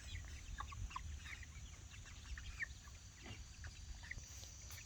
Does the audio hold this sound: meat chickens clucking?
yes